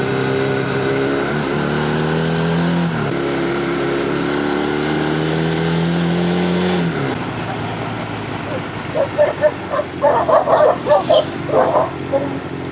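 Several dogs barking in quick, loud bursts near a beach area in Chumphon, Thailand, following a stretch of steady vehicle engine drone, with the yips and barks clustered in the final few seconds.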